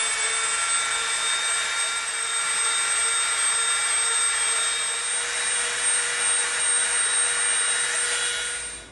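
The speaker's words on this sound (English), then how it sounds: "We're gonna hit it with the Dremel, that'll clean it up." Dremel rotary tool grinding glue residue off EVA foam, a high steady whine with a constant buzzing pitch that runs loud and close for the whole stretch before cutting off at the end.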